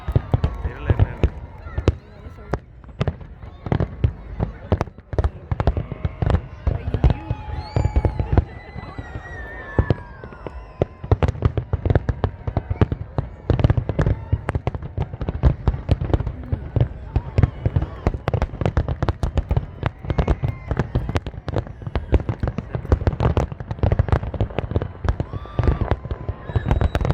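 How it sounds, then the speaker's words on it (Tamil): Big New Year fireworks burst over Ras Al Khaimah in loud, rapid, overlapping booms and crackles that continue without a break, while people talk close by. "பெரிய ஃபயர் ஒர்க்."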